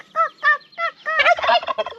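Turkeys on a farm gobble in four short, distinct rhythmic calls followed by a longer, dense burst of overlapping gobbling, close and fairly loud with no talk.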